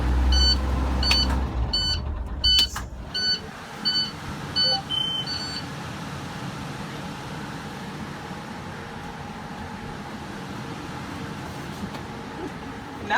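Buzzing beep alarm from a school bus child check system, a string of regular short electronic tones over the first few seconds, then a steady low interior rumble with the engine off.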